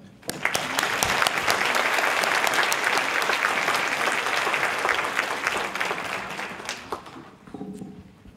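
An audience applauds to welcome Lieutenant Colonel Suzanne Bailey to deliver a keynote address, a dense, loud wave of clapping that swells quickly, holds for several seconds, then fades out near the end.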